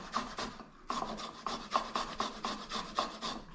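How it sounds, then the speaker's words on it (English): Whole garlic cloves rasped against a dull microplane grater, a steady series of quick scratchy strokes, close and fairly loud, with a brief pause near the start and no talking. "you literally just grate it like you're grating cheese"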